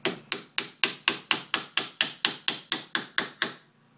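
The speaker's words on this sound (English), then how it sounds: "Got my wedge done. Yeah, I'm just going to knock it in and see how it goes." A big hammer strikes a wedge into a Hults Bruk axe handle in a steady run of about fourteen sharp, ringing knocks, evenly spaced and close by, with no talking.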